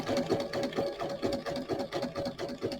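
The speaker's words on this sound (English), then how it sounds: "I'm going to do a zigzag stitch" A sewing machine runs a zigzag stitch over papercraft for a crafting kit, a close, loud rhythmic chatter of the needle pulsing quickly and evenly, with no talking.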